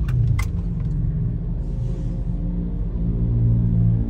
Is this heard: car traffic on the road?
yes